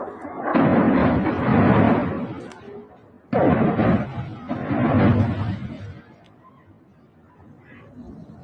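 Missile strikes in Iran sound as heavy, rumbling explosions, two long roaring bursts with a sharp onset on the second, trailing off into a fainter, distant rumble.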